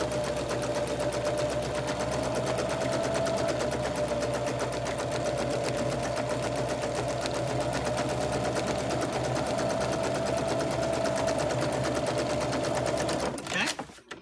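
A sewing machine runs continuously, stitching a patchwork pillowcase cover in a steady, even whir that stops abruptly at the end.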